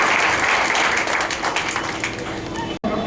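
A crowd applauds steadily, a dense wash of many hands clapping that tapers slightly before a brief cut near the end.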